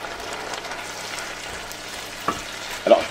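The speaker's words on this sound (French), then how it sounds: "On va déglacer tout ça au vin blanc." Onions cooking in a pan for a tartiflette, deglazed with white wine: a soft, even frying hiss with light stirring, then a brief sharper sizzle near the end as the liquid hits the hot pan, with no talking.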